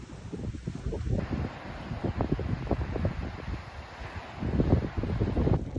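Strong gusts at a campsite in Wales buffet the microphone in heavy, uneven rumbling bursts, loud and close throughout, with no voices.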